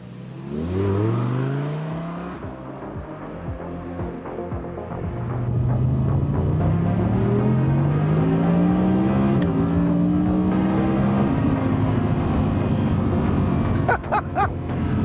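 An Audi R8 GT engine accelerating as the car drives off, the pitch rising through several gears in sweeping climbs, loud and close at first, then continuing up before fading toward the end.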